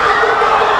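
Excited crowd at a school swimming competition, a dense wash of cheering and shouting heard from above, loud and continuous over a brief moment.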